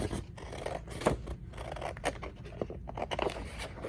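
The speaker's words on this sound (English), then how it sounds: "And then I would just go ahead and keep cutting out the whole thing." Close, quiet snips and crisp paper scraping as scissors cut out a paper feather, with irregular cuts and rustles continuing throughout and no speech.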